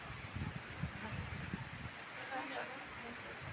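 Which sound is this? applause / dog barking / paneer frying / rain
rain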